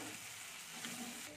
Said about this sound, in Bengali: টমেটোটা দিয়ে একটু নেড়ে নিচ্ছি হালকা করে। এখানে হলুদ গুঁড়ো দিয়ে দিচ্ছি আধা চামচ,